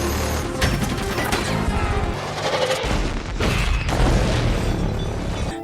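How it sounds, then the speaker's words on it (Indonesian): A car explodes after being shot in a Chinese action film scene, with dense gunfire bursts, booms and crashing debris in a loud, chaotic barrage. "Shen Wei langsung menembak salah satu mobil anggota Chris sampai meledak."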